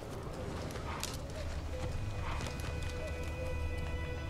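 Hooves of the horse Roach clip-clopping at a steady gallop in The Witcher 3, a continuous rhythmic patter under a dense ambient game soundscape, with faint talk.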